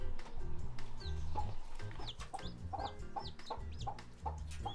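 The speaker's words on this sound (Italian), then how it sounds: "le mie piccole galline" Several chickens cluck and squawk in a busy, overlapping chorus nearby, with occasional sharper calls and soft background rustling.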